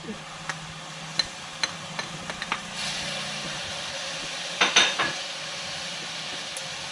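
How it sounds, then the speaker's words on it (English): Tomatoes, onions, garlic and capsicum for a Mexican salsa are stirred in a pan: soft scrapes and light clicks of a utensil, a low steady sizzle, and a couple of louder knocks midway, heard close and quiet. "Give it a good stir."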